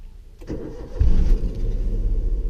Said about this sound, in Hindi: तो ये मेरी गाड़ी अभी स्टार्ट हो चुकी है।